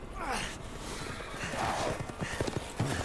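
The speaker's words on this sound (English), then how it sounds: "They're on horses too?" Horses in the video game Resident Evil Village, hooves clopping in an uneven rhythm at moderate loudness, growing more pronounced toward the end, alongside breathy vocal sounds.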